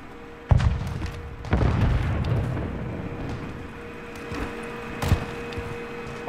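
A grenade goes off in Call of Duty Modern Warfare 3 with a sudden deep boom, followed a second later by a heavier rumbling blast that slowly fades, then a few scattered thuds.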